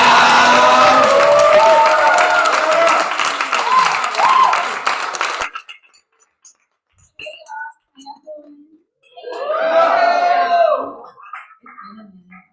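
Loud crowd applause with cheering for several seconds at an open mic night, stopping abruptly; afterward a few faint sounds and a short stretch of speech.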